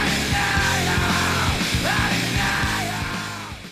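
The raw, sustained yell at the end of a song rides over loud distorted guitars and pounding drums in a rhythmic band backing.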